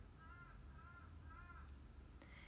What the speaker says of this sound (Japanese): カラス